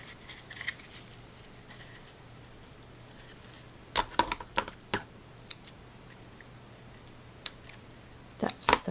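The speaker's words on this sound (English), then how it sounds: "That's the wrong pair of scissors." Scissors snip through pink fuzzy craft material for a sandal trinket box, a few sharp close clicks and cuts in scattered bursts over a quiet room, with a final cluster near the end.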